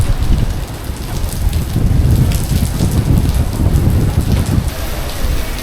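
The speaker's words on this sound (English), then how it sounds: "The wind has really picked up and the rain's coming down hard" Heavy rain pours down in Tlaquepaque, Mexico, in a loud, dense roar, with gusty low rumbling wind swelling and fading beneath the steady downpour.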